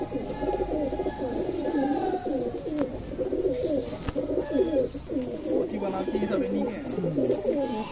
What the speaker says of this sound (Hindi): बनारसी कबूतर है